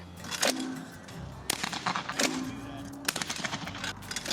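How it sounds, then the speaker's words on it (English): Shotguns fire at clay targets on an outdoor shooting range, a handful of sharp, moderately distant reports arriving singly and in quick pairs, each followed by a short echoing tail over a faint outdoor background. "They go on the shooting range, shoot clay targets."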